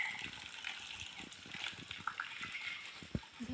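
Spring water seeps out of a tree trunk at an ashram, making a steady gurgling slosh with scattered small splashes over a constant outdoor hiss.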